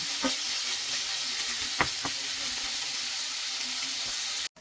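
Pork belly frying in a pan gives a steady, close sizzle throughout, with a few sharper pops and spits rising above the constant crackle before it cuts off abruptly at the end.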